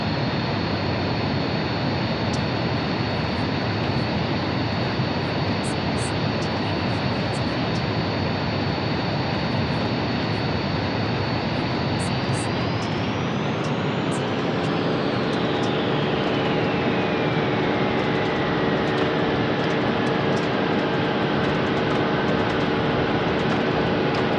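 An Airbus A350-1000 jet rolls down the runway on takeoff, a loud steady roar building as engine tones rise and then sweep downward, continuous throughout with no talk.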